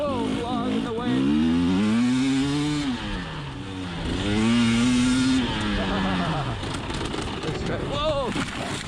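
A 2020 KTM 300xc TPI two-stroke enduro motorcycle revs up and down as it rides, its engine note rising and falling in long sweeps, loud and close throughout with no talking.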